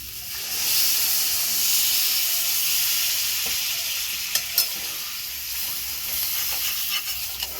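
Cold water hitting a hot pan of fried potato and jackfruit erupts in a loud, broad hiss and sizzle of steam that stays steady, then eases slightly, with a few sharp clinks near the end.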